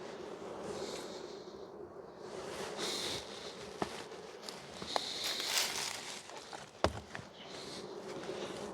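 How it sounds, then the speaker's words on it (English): Bees buzz around a beehive's wet supers, a faint, wavering drone rising and falling as insects pass near, with a few light knocks and handling sounds. "I already got bees in the top"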